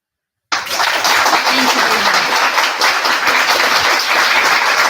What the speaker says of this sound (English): We hope that you could hear these applause